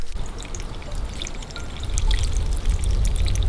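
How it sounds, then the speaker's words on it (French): A small spring trickling water outdoors at an abandoned manor, a steady close babble and splash that grows slightly louder, no talk. "Il y a une petite source."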